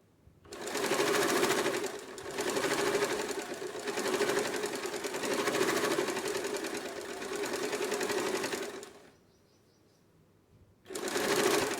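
An electric home sewing machine stitches rough practice cloth in one long, steady, close whirring run that pulses slightly with speed. After a short pause it starts again briefly.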